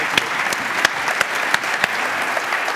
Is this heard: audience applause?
yes